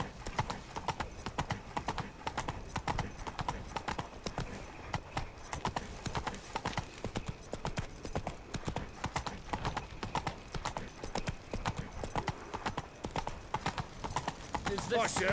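Roach, the horse in The Witcher 3, trots along with a steady, rhythmic clip-clop of hooves throughout, close and clear, while voices talk over the hoofbeats.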